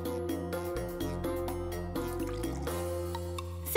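Water poured over broccoli, a faint trickling and dripping under a tonal background of steady music.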